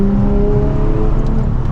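A manual transmission car fitted with an aftermarket exhaust kit revs its engine, a loud, steady throaty drone held close for under two seconds with no talking.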